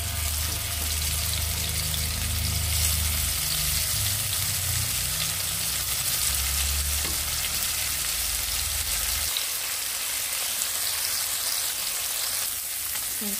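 Sole fish frying in hot oil in a frying pan, a steady loud sizzle and crackle of oil throughout, with a low rumble fading out partway.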